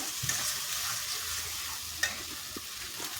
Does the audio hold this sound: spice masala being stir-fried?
yes